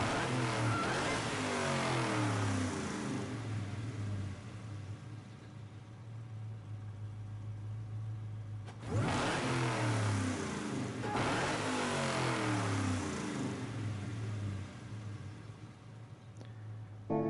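Chevrolet Camaro engine in Gran Turismo 7 revving loudly and steadily at mid pitch, with a brief drop near the middle before climbing again, heard alone without talk.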